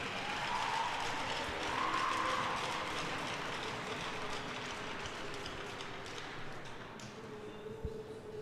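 A steady wash of crowd applause fills a rink at a college club hockey playoff game between Buffalo State and University at Buffalo, greeting a senior player in an even, moderately distant roar that slowly tapers.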